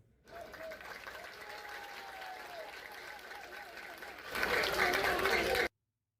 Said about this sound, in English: With raucous applause, he is met with